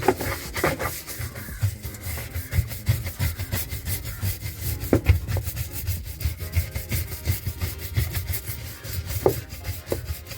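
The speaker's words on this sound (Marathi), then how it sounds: "तरी पण ब्रशने एकदा असंच स्वच्छ करून घेतो मी." A brush scrubbing and rubbing over the surface of a household appliance being cleaned after washing, a steady loud rasping scrub with repeated strokes throughout.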